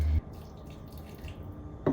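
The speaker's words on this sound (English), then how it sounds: "So we're just adding a little bit of pasta water to loosen up the paste" Starchy pasta water is poured into anchovy paste for a caramelized shallot pasta, giving a short splashy pour at the start, a quiet wet trickle in between, and another brief splash at the end.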